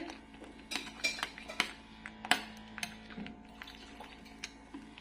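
A spoon stirring ghee into pav bhaji in a pan: a faint series of irregular metallic clinks and scrapes against the pan, quiet and close, with soft mixing in between.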